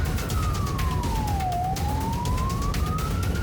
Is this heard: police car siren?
yes